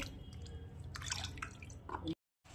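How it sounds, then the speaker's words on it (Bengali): Water runs and drips as mutton is rinsed in a kitchen, with splashing bursts through most of the stretch, a short silent gap near the end, and faint talk underneath. "তাহলে আমি মাংসটা ধুয়ে নিই"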